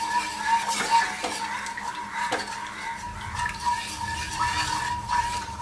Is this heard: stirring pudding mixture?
yes